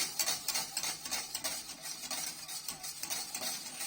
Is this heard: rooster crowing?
no